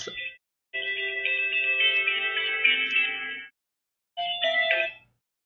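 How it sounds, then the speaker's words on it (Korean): A phone rings with a bright electronic melodic ringtone during a recorded Korean Bible exam lecture, sounding in two bursts, a long one of about three seconds and then a short one after a pause, with no talk over it. "전화가 왔습니다."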